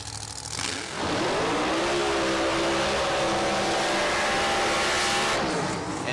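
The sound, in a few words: supercharged drag racing car engine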